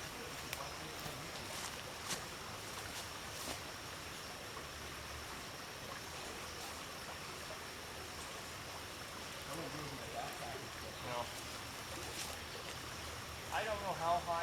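A creek flows with a steady, quiet rush that continues unbroken throughout.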